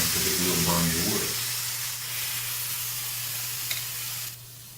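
A steam iron hisses steadily against wood in a chilly woodworking shop, a broad sizzling wash with a low steady hum beneath, briefly joined by a voice at the start and easing off near the end.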